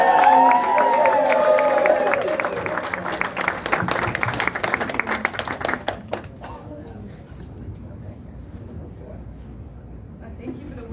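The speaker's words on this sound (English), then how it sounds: "can I hear a big round of applause for Akilah?" An audience at a live presentation event applauds to welcome a presenter, steady clapping and some cheering at first, then thinning to scattered claps and quieting down by the end.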